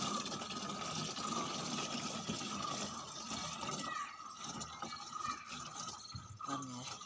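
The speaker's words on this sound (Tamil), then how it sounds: "வீட்டிலேருந்து தண்ணி கொண்டு வந்து ஊற்றுறோம்." Water from home is poured into a 5-litre can set up for drip irrigation of a plant outdoors, a steady faint gushing pour that continues for several seconds with soft background noise.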